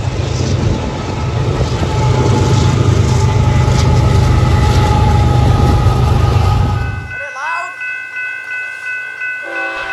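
A Norfolk Southern freight train with a mid-train DPU locomotive rolls past close and loud, steady heavy rumble and rail noise for about seven seconds, then cuts off abruptly to quiet with faint birdsong.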